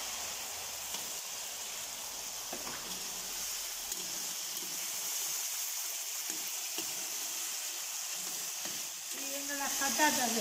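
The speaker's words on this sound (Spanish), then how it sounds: "Friendo las patatas después de los pimientos." Potatoes fry in very hot oil, added after peppers, giving a steady bubbling sizzle with occasional stirring; a brighter burst of crackling rises near the end.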